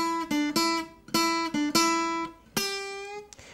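An electric guitar plays a blues opening phrase of several plucked notes in a short rhythmic run, one note sustaining with a bend before ringing out, clean and close.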